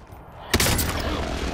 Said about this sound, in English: Enemy precision airstrike, take cover! Rounds incoming!